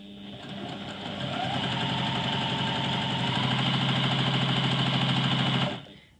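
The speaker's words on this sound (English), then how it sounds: "I'm going to sew all the way down the strip with a 1/4 inch seam" A sewing machine runs steadily at close range, stitching a jelly roll quilt strip with a 1/4 inch seam, a fast even mechanical whir that builds, holds for several seconds and then stops abruptly.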